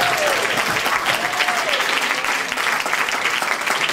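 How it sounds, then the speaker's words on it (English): A crowd at a bar and bat mitzvah ceremony claps for the kids, a dense, steady round of applause with a few cheers mixed in. "I think we need another big round of applause."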